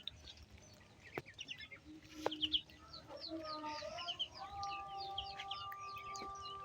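Several chickens cluck and call repeatedly across a farmyard after rain while feeding, moderately close, with a sharp tap or two and a steady outdoor background.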